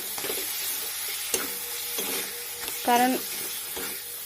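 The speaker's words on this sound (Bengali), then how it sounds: "আবার গ্যাস ধরিয়ে দিলাম। এদিকে ম্যাগিটা করে নেব, বসিয়ে দিলাম।" Maggi noodles cooking in a pan on a lit gas stove, a constant close sizzling hiss with occasional stirring scrapes, and a voice speaking briefly over it.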